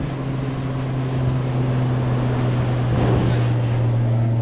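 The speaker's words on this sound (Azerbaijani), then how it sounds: "Çimərlik, hava limanı və daimi olaraq başımızın üzərindən uçan təyyarələr." A low-flying airplane passes overhead near an airport beach in Phuket, Thailand, its steady engine roar and hum filling the air close and loud, swelling slightly toward the end.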